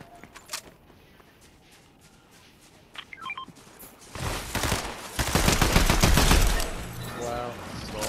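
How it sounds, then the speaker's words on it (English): Bursts of gunfire in Fortnite, starting as scattered shots and building into loud, rapid volleys near the end, with game beeps and chimes in the quiet opening. "somebody's shooting at me"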